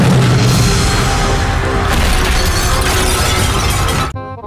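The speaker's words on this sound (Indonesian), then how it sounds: "sudah pecah telurnya" A dinosaur egg cracks open in a dinosaur video game: a loud, dense crackling and shattering roar that runs steadily for about four seconds, then cuts off abruptly.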